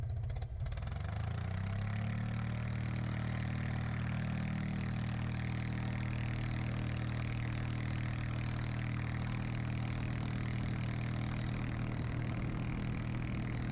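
An Aeronca C3 light aircraft's engine picks up from a clattering start into a loud, steady drone as it takes off on a sloping grass runway, close and continuous.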